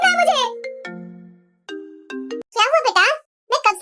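A phone ringtone sounds in a cartoon as a sequence of clear electronic tones that hold and then step to new pitches, with animated child-like voices speaking before and after it.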